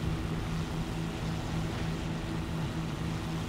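Propeller aircraft engine drone in War Thunder, a steady loud buzzing hum with a pulsing low tone held throughout, F7F Tigercat squad combat flight.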